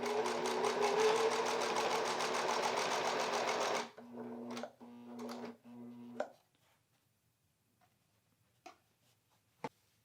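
A sewing machine stitches baby blanket panels, whirring in one steady, close run for about four seconds. Then come a few short stop-start bursts, and it falls quiet apart from faint clicks.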